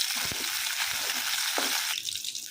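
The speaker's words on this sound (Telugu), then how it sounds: "సో పచ్చిమిర్చిని లైట్గా ఫ్రై చేసేసుకున్నామండి" Green chillies fry lightly in hot oil for a yellow cucumber and peanut chutney, giving a steady, close crackling sizzle with a few brief stirring sounds.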